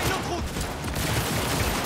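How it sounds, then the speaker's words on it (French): Rapid submachine gun fire in the video game Cyberpunk 2077, a dense continuous burst of gunshots lasting the whole moment, loud and busy with no talk over it. "Mais attends, mais j'ai une mitraillette. J'ai une mitraillette moi."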